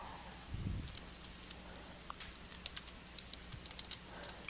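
Quick, light keystrokes on a computer keyboard tap out an irregular patter of close clicks, with a soft low thump near the start and no talking.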